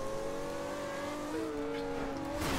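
Racing car engines in a driving video game, a revving engine droning steadily then shifting pitch as it accelerates, close and loud with a brief burst of tire noise near the end.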